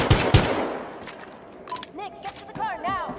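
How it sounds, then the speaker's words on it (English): Gunfire in the video game Battlefield Hardline: a couple of sharp shots up front, then scattered pops mixed with chirping game effects and voices, moderately loud. "Gunfire reported. Code 3."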